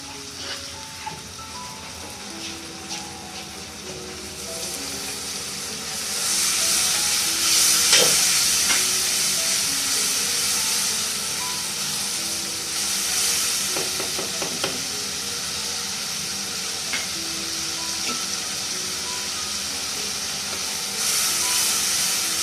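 Red chilli masala frying and being stirred in a pan for an aloo shimla mirch dish: a continuous sizzle and hiss that flares louder at times, with intermittent scraping stirs and light clinks throughout.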